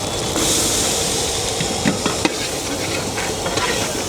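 Chopped tomato, green chilli, onion and garlic fry with cumin in a large pan of vegetables cooked for a big crowd at a roadside stall, a loud, steady sizzle with a few clanks of a stirring ladle.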